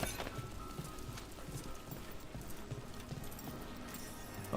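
Donkeys' hooves clip-clop in a steady, quiet rhythm in Dragon Age: The Veilguard, several animals plodding at a moderate distance over a low ambient bed.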